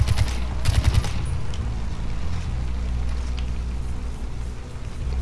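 Far Cry 4 gameplay gunfire as enemies are shot: a few sharp cracks early on over a steady low rumble of background noise, after which the shots fall away and only the rumble remains.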